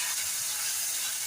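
Chopped tomatoes sautéing with salt in a hot pan for a shimplya (clam) masala, giving a steady, close sizzle and hiss with no talking.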